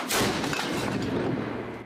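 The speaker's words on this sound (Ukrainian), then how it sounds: "Це далекобійна самохідна гаубиця М109." A heavy artillery blast from an M109 long-range self-propelled howitzer booms and rolls out into a long, rumbling echo, loud and outdoors.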